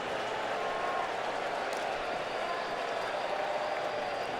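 A baseball stadium crowd at an NLDS playoff game between the Rockies and Phillies roars steadily throughout, a continuous distant wash of cheering and applause with no clear breaks.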